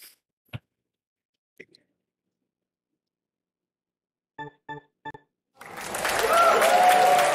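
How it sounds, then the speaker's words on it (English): A small burst of audience clapping from a live stream swells up near the end, following a few brief clicks and taps, fairly loud and sustained for a couple of seconds with no talk. "Thank you for the claps."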